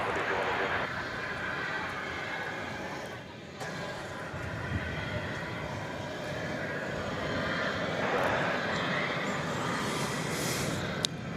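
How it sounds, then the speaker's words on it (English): An American Airlines Airbus A321 arriving from Denver at DFW Airport after dark gives a broad, steady jet roar that swells and eases over about eleven seconds, with a voice faintly present underneath. "We had for you there American Flight 1322 coming in from Denver, an Airbus A321"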